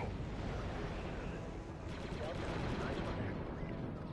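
Gunfire in the Star Wars: Republic Commando video game as a droid is shot, a dense, continuous barrage of rapid blasts and rumbling impacts mixed with game effects, loud and constant throughout.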